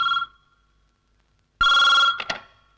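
A telephone bell rings in a domestic setting: a short ring fades out, then after a pause a louder sustained ring sounds, followed by two quick clipped bursts, close and clear.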